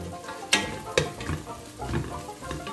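Whole spices such as cinnamon and bay leaves frying in a pan for prawn biryani, soft sizzling with two sharp clacks of a spoon against the pan, close, under brief low talk.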